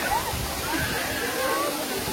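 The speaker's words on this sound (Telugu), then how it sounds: "దెబ్బ దెబ్బ దెబ్బ దూకతండి నీళ్ళు." Water rushes and crashes down heavily into a temple pond in a constant roar, close and loud, with voices faintly mixed into the noise.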